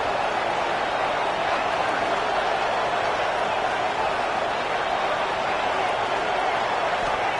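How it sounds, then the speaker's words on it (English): Dense, steady stadium crowd roar at a Boise State college football game on third down, loud and continuous with no breaks, a broad wash of massed voices throughout. "This Boise State crowd bringing the noise. It's deafening here on third down."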